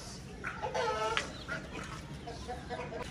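A flock of pigeons shuffles about after being fed grain, with a few short cooing or clucking calls over a constant background rustle.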